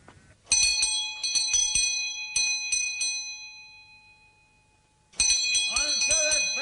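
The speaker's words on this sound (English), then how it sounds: "Answer that bell, someone here." A house bell rings repeatedly in bright metallic bursts, several quick runs of clangs with long sustained ringing, then a pause and another loud burst, heard alone with a voice faintly beginning near the end.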